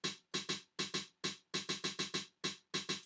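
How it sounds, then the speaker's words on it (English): Snare solo from a Dirty South beat, made of bright, sharp snare hits fired in quick pairs and rolls with short gaps, dry, close and prominent with no other sounds. "in pattern 2 we got this nice snare solo"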